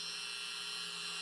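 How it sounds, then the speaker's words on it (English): A Dremel rotary tool spinning a cutting disc while sanding a part, giving a steady high-pitched whine with a constant drone, close and unbroken, with no talking. "Now, I will sand them down slowly using this cutting disc on my Dremel"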